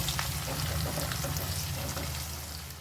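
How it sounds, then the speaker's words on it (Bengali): Chopped green chillies frying with onions in a pan, a steady close sizzle with faint crackle running continuously and alone throughout. "এটাও একটু পেঁয়াজের সঙ্গে ভালো করে ভেজে নেব।"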